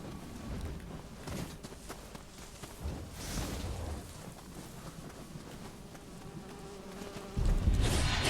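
Bees buzzing in the Nioh 3 action game, a steady insect drone at moderate level with scattered thumps and footsteps, growing louder at the end.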